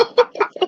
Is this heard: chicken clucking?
yes